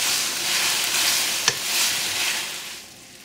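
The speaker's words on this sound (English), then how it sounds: "Stir it up good. Drop your heat down and simmer it for a couple minutes." Beef and broccoli stirred in a hot pan, a steady close sizzle and hiss of simmering sauce with one sharp utensil tap against the pan midway, no talk.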